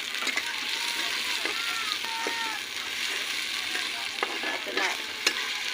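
Onions fry in a pan while a utensil stirs them, with a steady close sizzle and a scatter of scraping, clinking strokes against the pan, and a voice talking faintly over it.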